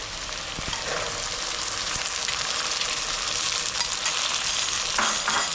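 Ginger and garlic sauté in hot oil in a pan for mutton pickle, giving a dense, even sizzle with a couple of faint utensil taps and a brief louder flare of crackling near the end.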